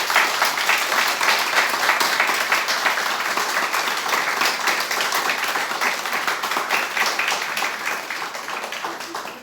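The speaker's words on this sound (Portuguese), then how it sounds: "Eu peço a todos agora, nesse momento, uma salva de palmas a todos que aqui" Sustained applause from an audience at a spiritist centre talk fills the whole stretch, a dense, steady wash of many hands clapping that stays loud and even, with no talk over it.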